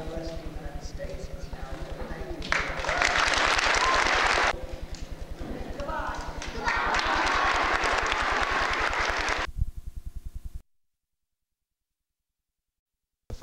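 Crowd applause for a guest during a visit to Chichester, two bursts of clapping set apart by quieter stretches with a voice, fairly close and moderately loud, ending in silence.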